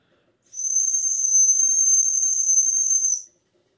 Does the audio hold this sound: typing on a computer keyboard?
no